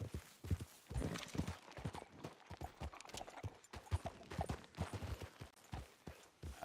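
Horse hooves clip-clopping at a walk in a video game, a steady run of hoof falls close by with small uneven gaps and no talk over them.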